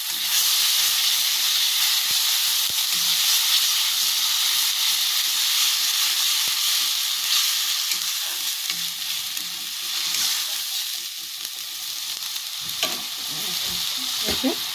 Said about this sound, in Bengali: যে টমেটোটা বেটে রেখেছিলাম ওইটা দিয়ে দিচ্ছি, দিয়ে আবারও ভালো করে নাড়াচাড়া করে ভেজে নেব।